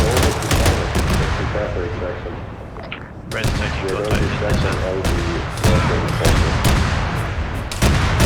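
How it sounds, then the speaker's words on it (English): Arma 3 combat gunfire: repeated sharp shots and bursts, some loud and close, others distant, crackling throughout with shouted voices mixed in. "Shots."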